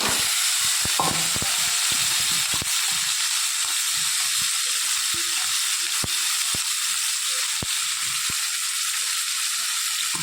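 Gravy frying in hot oil gives a steady, loud sizzle, a constant bright hiss with a few scattered clicks and taps.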